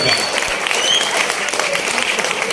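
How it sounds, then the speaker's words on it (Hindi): An audience at a Hindi comic poetry gathering breaks into loud, sustained applause, a thick wash of clapping throughout with faint murmurs mixed in. "ताली जोरदार बजा दीजिए एक बार।"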